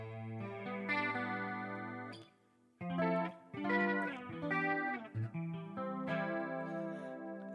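Clean electric guitar through a chorus effect on a Line 6 Helix, picking a short series of shimmering notes and chords with brief gaps between phrases, close and clear.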